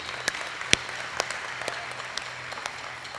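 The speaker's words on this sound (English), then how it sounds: "Y'all give him a round of applause." A church congregation during a Sunday service gives a light, sparse round of applause, scattered individual claps popping out faintly over a quiet room hum.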